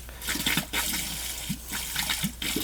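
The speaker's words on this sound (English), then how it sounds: "I'll go through all the zones and give it a good flush." Water gushing and flowing through the pipes of a gas boiler heating system during a glycol flush, a steady rushing wash with gurgling surges, fairly close and continuous.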